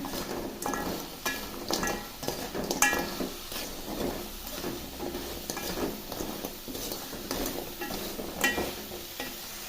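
Fried idli pieces are tossed with masala in a sizzling pan, a spoon scraping and clinking against the metal in repeated strokes over a steady frying hiss.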